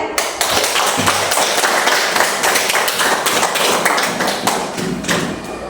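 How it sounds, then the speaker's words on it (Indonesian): Classroom applause from a group of fourth-grade students, a steady dense clatter of many hands clapping close by, continuous for several seconds. "Kasih aplaus buat Mas Nisa"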